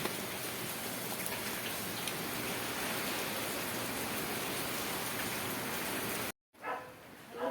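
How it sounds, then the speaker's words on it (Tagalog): Heavy rain pours in a dense, steady roar that cuts out abruptly near the end, followed by a brief quieter stretch of rain. "Oh, lakas ng ulan."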